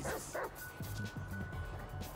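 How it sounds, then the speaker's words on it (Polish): Chop, the dog in Grand Theft Auto V, barks in a quick run of sharp, loud woofs and yips, close up over a steady background hum. "ciekawe, czy będziemy mieli tego Choppera jako własnego pieska"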